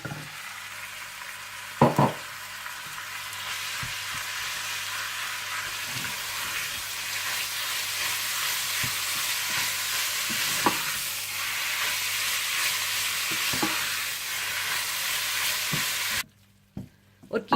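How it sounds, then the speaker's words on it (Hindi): Minced keema fries in a pan with cumin, ginger and garlic, giving a steady, close sizzle with occasional stirring scrapes and clinks, before the sizzle cuts out near the end. "जीरा और अदरक लहसुन भूनने के बाद आप इसमें कीमा डालकर भून लें।"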